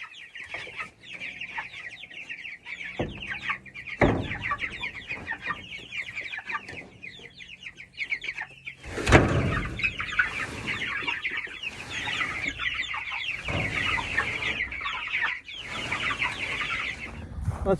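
Chickens in a chicken tractor cluck and chatter close by, with some birds noticeably runty, bursts of louder squawking breaking through a steady busy murmur of fowl.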